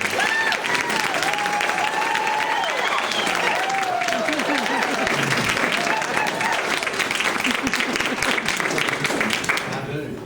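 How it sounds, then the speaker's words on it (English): An audience at a fan club party gives sustained, loud applause with steady clapping and crowd cheers throughout. "So if you would give all these guys a big round of applause."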